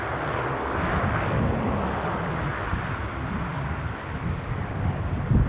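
A Ryanair airliner passes at Aberdeen Airport, a loud broad jet roar with wind buffeting the microphone, holding steady with no talk.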